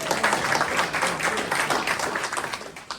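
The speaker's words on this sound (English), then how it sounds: "Let's give Laura a round of applause" A room full of people at a community conservation gathering in New Lebanon gives a lively round of applause, with close, crisp hand claps in a fast, steady patter that rises and falls slightly over three seconds.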